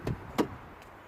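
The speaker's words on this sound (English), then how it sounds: "you open the door." A Mercedes car door being opened: a soft latch click followed by a sharper, louder clunk of the door release, then a faint third tick, all quiet and close with no voices.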